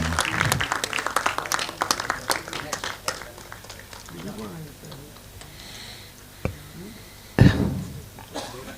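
Applause from an audience at an Indian trophy and guest-felicitation ceremony, brisk clapping at first that thins out into a few scattered claps, then a couple of sharp knocks near the end, with brief speech mixed in.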